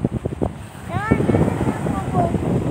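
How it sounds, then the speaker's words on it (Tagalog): Sea wind buffeting a microphone on a shore with strong waves, gusty rumbling that continues throughout while people talk over it. "Ang sarap ng hangin"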